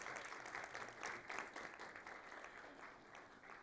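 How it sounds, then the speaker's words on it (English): Conference audience applauding as panel moderators walk on stage, a dense, even wash of clapping heard from a distance, fairly quiet and tapering slightly toward the end. "Let's give them a round of applause as they come up."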